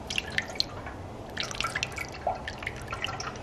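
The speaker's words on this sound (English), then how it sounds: "This literally sounds like a never-ending coolant header tank." Coolant poured into the header tank of a Ford Falcon FG turbo trickles and drips with soft, uneven splashes, fairly close and steady, with no talking.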